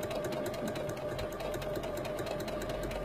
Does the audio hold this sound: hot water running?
no